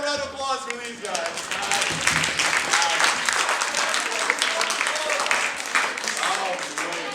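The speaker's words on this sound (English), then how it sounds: "have a round of applause for these guys" An audience gives a round of applause, dense and loud clapping that swells quickly and holds steady throughout, close and filling the room.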